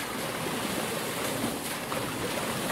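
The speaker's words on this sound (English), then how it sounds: "Let's head away down to this beautiful factory that's got the big old authentic and quite ornate water wheel." Steady broadband rush of water pouring over a big, ornate old water wheel at a mill in a French countryside farming game map, continuous and fairly close with no talk.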